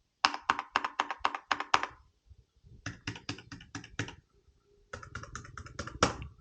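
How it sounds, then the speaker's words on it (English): Typing on a K68 mechanical keyboard, with fast bursts of crisp, clacky keystrokes in three rapid groups separated by short pauses, close and alone with no talking. "A mechanical keyboard does not use the typical membranes that you find under the keys. It uses, as the name implies, a mechanical switch underneath."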